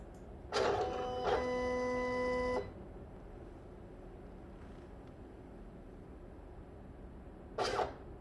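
A Silhouette Cameo 4 cutting machine tries to scan registration marks, giving a short whir, then a stepped, tonal motor whine lasting about a second, a quiet pause, and one more brief whir near the end.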